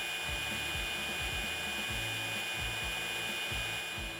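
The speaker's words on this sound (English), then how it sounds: "The trimmer head will start to spin." A 40V cordless 14-inch string trimmer head spins with a steady high-pitched whine, along with a repeating low motor pulse, continuous and close.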